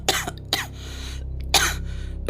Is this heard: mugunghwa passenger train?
no